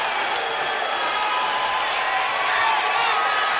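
A boxing crowd at an LA County Fire Department vs LAPD bout, a loud, steady roar of cheering and shouting that swells slightly toward the end, with a commentator's voice under it.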